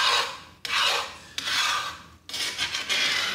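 Browned bits scraped off the bottom of a cooking pan with a utensil: three long, rasping strokes with brief pauses between them, close and fairly loud, with no talking.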